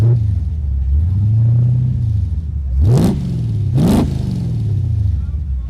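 Modified 1958 Rambler with a 5.7 Lumina engine converted from fuel injection to a carburetor, idling with a loud, close rumble and revved twice in sharp bursts; someone talks over it.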